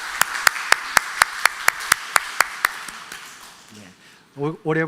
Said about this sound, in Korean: 함께 다 일어서 주시면 우리 박수로 환영해 주시면 고맙겠습니다